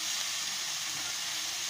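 Coriander leaves fry lightly in a hot pan, making a steady, even hiss of sizzling oil with no pauses and no talking.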